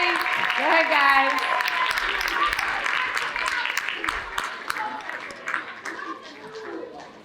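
Audience applause at a school oratorical contest as students return to their seats, loud crowd clapping that slowly thins out, with a voice speaking over it early on.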